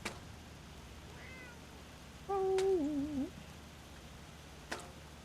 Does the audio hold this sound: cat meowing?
yes